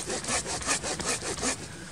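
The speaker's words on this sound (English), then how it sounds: "All right, back to sawing." A hand saw cutting through wood at a tarp campsite on an overnight backpacking trip, with rhythmic back-and-forth rasping strokes, about six quick pulls, close and moderately loud.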